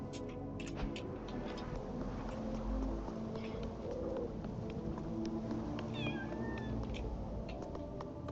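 A cat meowing in the video game Little Goody Two Shoes, a few short mews heard over a busy layer of music and ambient game sound, with faint birdlike chirps; no one speaks.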